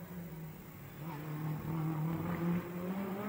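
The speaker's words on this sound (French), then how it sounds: "Et les petites Austin métro font leur bonhomme de chemin." Small Austin Metro race cars lapping a street circuit at a historic racing event, their engines droning steadily at mid distance with a rising, slightly louder passage near the middle.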